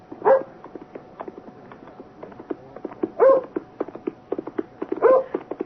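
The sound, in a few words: dog barking in a radio drama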